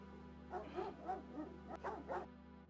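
Short bursts of barking from a dog in the King's Quest video game, about five evenly spaced barks over a quiet, steady game-music background.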